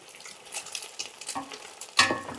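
A spatula slowly scrapes and stirs carrot egg fried rice in a pan, soft irregular scrapes over a faint sizzle with a sharper clink near the end.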